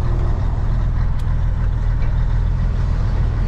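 A stopped truck idles with a steady, continuous low engine rumble, close and loud, unbroken through the whole stretch with no talk over it.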